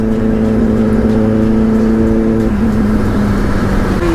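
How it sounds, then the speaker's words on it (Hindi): A loud, continuous engine drone, with a Kawasaki ZX-10R superbike's high-revving whine rising and falling over steady road and wind noise. "सो गाइस सुपर बाइक चल रही है हमारे पीछे, ZX 10R।"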